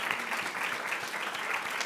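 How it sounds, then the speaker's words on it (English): Continuous, even applause from a gathered staff audience at Holland Bloorview welcoming new members, a dense wash of many hands clapping at a steady level with no break. "I'd like you to all stand up and bathe in applause from Holland Bloorview."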